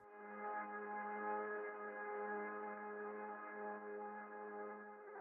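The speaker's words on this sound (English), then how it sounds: "Synth swells. What is this? Another one from the Spitfire Lab series, Opia Synthwave 3." Sustained synth swell from the Spitfire Labs Opia Synthwave 3 library, a steady harmonic-rich pad with a firm low fundamental, holding level for about five seconds with a gentle rise and slight fluctuations, no voices present.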